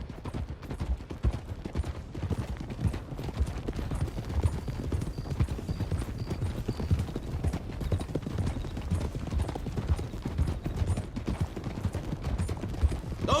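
Horses gallop through hills in Red Dead Redemption II, a fast continuous clip-clop of hooves heard fairly close and moderately loud, with no talk over it.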